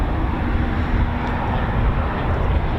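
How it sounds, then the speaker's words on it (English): An F-15 fighter jet engine runs during a live air exercise at RAF Waddington, a broad, continuous roar that holds steady throughout. "I heard an F-15 started up there."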